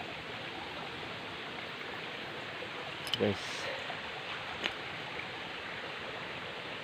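Water flows in a small stream at an old water-fetching spot with a steady, even rushing hiss. A voice speaks one brief word over it partway through.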